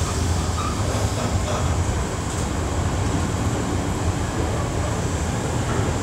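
A train passes on the East Coast Main Line at Peterborough, a loud, continuous rolling rumble of wheels and rail noise close by, steady throughout with no voices.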